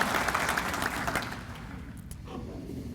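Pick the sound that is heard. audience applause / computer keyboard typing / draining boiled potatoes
audience applause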